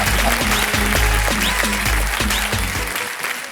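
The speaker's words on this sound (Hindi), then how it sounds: "तालियां बज जाए" Studio audience applause on the Shark Tank India Season 2 set, loud and close, with musical stingers and beats playing over the clapping before it thins out near the end.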